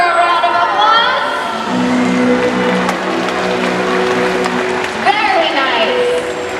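An audience at a SeaWorld Orlando orca show applauds with broad clapping and cheering, while an amplified announcer's voice keeps talking over the crowd.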